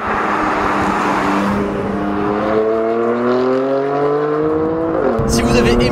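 BMW M5 E28 sedan accelerating, its engine note rising steadily in pitch with a gear change near the end, loud and close throughout.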